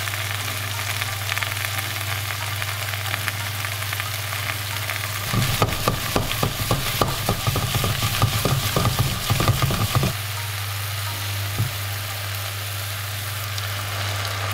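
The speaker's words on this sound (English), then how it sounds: "Add ah, cabbage and stir fry." Cabbage stir-fried in a pan, a burst of sizzling and scraping stirring for about five seconds over a steady hum, then quieter frying.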